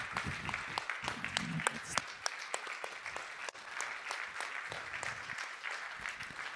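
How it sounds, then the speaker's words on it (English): Ceremony audience applauding at an honorary doctorate presentation, a soft, sustained wash of many hands clapping at a distance with scattered sharper claps throughout. "And Rudi Vranckx, please give him a tremendous applause"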